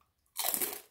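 A single sharp crunch of a bite into crispy pork rinds, close and crackly, lasting about half a second after a brief quiet.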